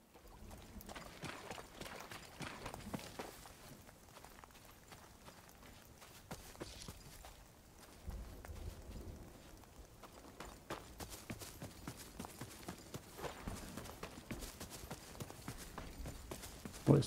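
Footsteps in the video game The Cycle: Frontier patter in quick, uneven clusters of soft thuds and scuffs, fairly close and continuing throughout at moderate volume.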